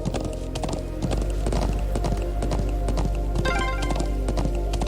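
Horse hooves clip-clop at a steady gallop in the Trails of Cold Steel video game, a loud, rapid rhythm of repeated hoofbeats running throughout over a low continuous rumble.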